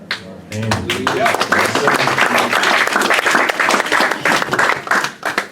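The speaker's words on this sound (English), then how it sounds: "As we applaud her" Congregation at an afternoon Shabbat service applauding in a loud, dense burst of clapping that starts after a brief voice and continues steadily to the end.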